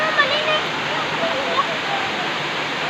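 Waterfall at a river in Tanay, Rizal, roaring as a steady, loud broadband rush of falling water that fills the scene without a break.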